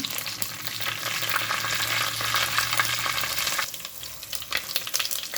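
Crushed garlic, curry leaves and green chillies fry in hot oil with a steady close sizzle, stirred now and then, easing slightly near the end; no talking.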